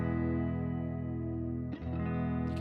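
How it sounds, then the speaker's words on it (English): A sustained guitar tone runs through a vintage tape flutter and wow effect, its pitch gently wavering. Partway through, a brief change in timbre and a bright upper wash appear. "if we move away from the tape age from new to vintage, we're going to get a little bit more flutter and wow."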